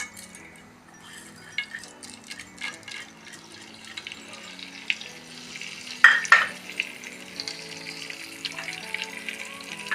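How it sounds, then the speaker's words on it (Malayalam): Mustard seeds crackling in two spoons of hot oil in a pan on the stove for ragi upma, a faint sputtering hiss with scattered pops and a louder burst of crackles partway through. "പിന്നെ അടുപ്പത്ത് ഒരു പാൻ വെച്ചിട്ടുണ്ട്, അതിൽ ഞാൻ 2 സ്പൂൺ ഓയിൽ വീത്തിൻ്റെ അതിൽ കടുകിടണം"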